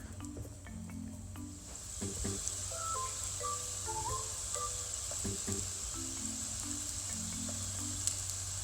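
A steady hiss of squash and purple yam gnocchi frying in a hot pan with oil fills the background throughout, with faint low-pitched tones drifting over it.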